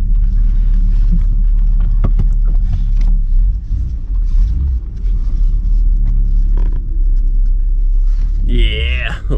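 A steady low engine rumble from an MK3 Volkswagen Jetta VR6 idling and reversing slowly, loud and close, with a brief squeal near the end.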